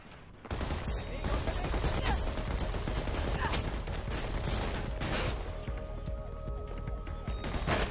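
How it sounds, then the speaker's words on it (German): Gunfire in the video game Mirror's Edge, a dense, continuous barrage of overlapping shots and crashes that persists for several seconds after a sudden start, loud and busy throughout. "Boah, die knallen mich ab."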